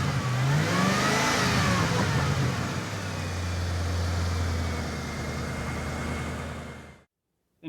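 A Ford Crown Victoria P71 police interceptor's V8 engine runs steadily at close range, with a brief rev early on before settling into a smooth, even hum that cuts off abruptly at the end.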